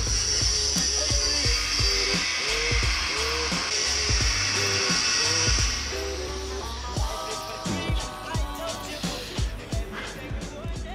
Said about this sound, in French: Un petit coup de disqueuse ici.